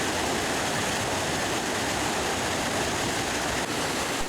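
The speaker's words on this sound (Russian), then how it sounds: "Водопад хоть и небольшой, но вода вокруг тебя бурлит, словно ты в Ниагаре" Constant rushing roar of a small waterfall, broadband and unbroken, heard up close with no voices.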